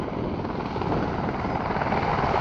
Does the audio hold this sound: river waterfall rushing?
no